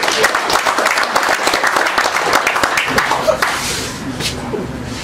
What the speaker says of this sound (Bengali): জোরে একটা করতালি।